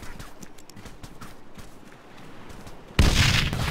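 A frag grenade goes off in the Arma 3 video game as one sudden loud blast near the end, after a quieter stretch of faint shuffling and distant thuds.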